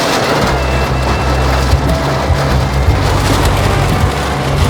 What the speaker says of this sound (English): You guys, it's hailing.